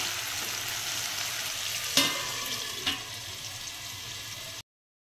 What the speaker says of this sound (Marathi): जाडसर पण थोडे पातळ करायचे असे काप, म्हणजे आपल्या तेलामध्ये 5 मिनिटं शिजून येतात